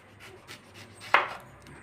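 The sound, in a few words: cutting washed onion with knife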